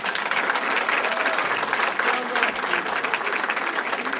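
Wedding guests applaud a newly married couple being introduced, a dense, steady wash of clapping filling the room for several seconds without pause.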